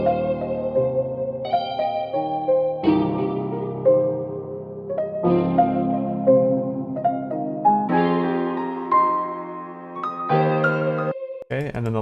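Piano and guitar play a melody together, with layered notes, chord changes and a roomy, echoing tone.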